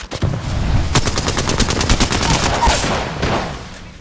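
Rapid bursts of gunfire from the battle royale video game Apex Legends, a dense automatic-weapon clatter of many quick shots that runs loud and steady for about four seconds with no talk.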